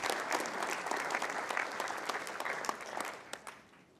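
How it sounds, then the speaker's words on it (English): A large conference audience of physicians and staff applauds in a dense, steady wash of clapping that thins out and fades away toward the end. "I'd really like to give yourself a great round of applause here."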